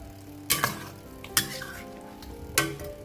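Curry chicken sauce seasoned with fish sauce is stirred in a pan, with a gentle sizzle under three sharp clanks of a utensil against the metal, close up and without talking.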